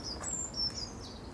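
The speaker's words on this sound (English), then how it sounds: "Yeah, just birds." Birds chirping outdoors on a film set, a few thin high tweets in quick succession over a soft background hush.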